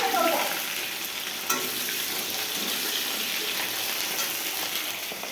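Garlic with fenugreek and radhuni seeds sizzles in hot oil, a loud, continuous spitting hiss with a brief sharper crackle near the start and no voices over it.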